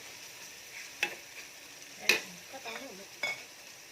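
Jackfruit pieces fry in coconut oil for a special chakka dish, a quiet sizzle broken by a few crisp taps and scrapes of a stirring spoon against the pan.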